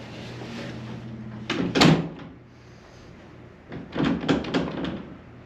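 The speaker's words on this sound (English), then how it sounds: "Now we're going to shut the door and make sure it catches that strike." A door in a double swing installation is pushed shut twice, each time with a firm thump as it latches onto the new strike plate, in a quiet indoor room with no talk.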